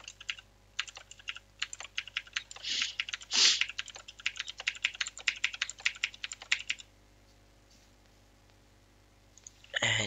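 Computer keys are pressed in rapid bursts of light clicks while editing keyframes in C4D and After Effects, close and fairly quiet, with a longer pause near the end.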